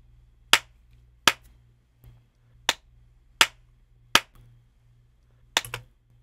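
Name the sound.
hand claps recorded to train a reverb plugin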